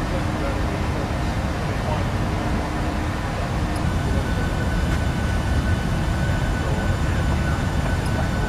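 Steady, loud engine and air roar fills a Transavia airliner cabin in flight from Paris to Dubrovnik, constant throughout with faint voices in the background.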